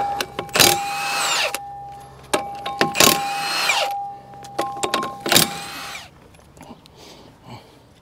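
A power tool drives off mounting nuts on a Bobcat T750 drive motor in three loud whirring bursts separated by short pauses and metallic clicks, close and clear with no talk.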